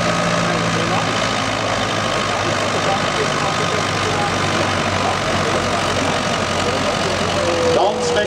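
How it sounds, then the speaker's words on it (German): A pulling tractor roars steadily at full power at the Zimmerwald 2018 tractor pulling event, 4-ton class, dragging the sled over 90 metres. The loud, continuous engine drone runs throughout under a commentator's voice. "Und der Traktor kann den dann sogar über 90 Meter ziehen."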